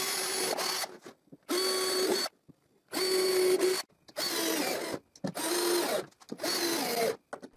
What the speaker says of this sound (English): I can screw the base of the jig to the triangles